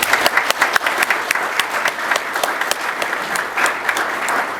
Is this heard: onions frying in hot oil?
no